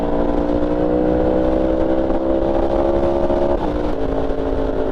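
A motorcycle cruising on a highway at around 70 mph, a loud, steady engine drone with slowly shifting pitch and constant road and wind roar, no talking.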